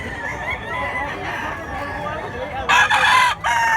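Roosters crow loudly and repeatedly at a gamecock market in Mantalungon, Cebu. Calls overlap near and far over clucking and crowd chatter, and a strong crow bursts in near the end.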